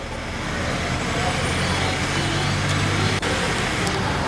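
A commercial panel truck drives along the road on a test drive after a cruise control install, a steady broadband rumble of engine and road noise from inside the cab with a brief knock near the end.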